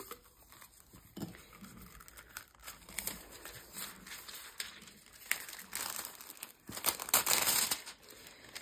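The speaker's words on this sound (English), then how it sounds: "This is the Deco Foil I'm using." Gold Champagne Deco Foil crinkles and crackles as it is pressed onto a craft project, with soft, irregular rustling bursts close by and louder crumpling near the end, no voice.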